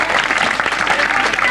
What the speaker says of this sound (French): Je crois qu'on peut applaudir Claude, ami du Rouret.